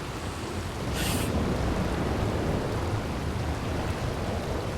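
Rain falls in the Red Dead Redemption 2 video game as a dense, constant wash of noise, with a short brighter splash early on.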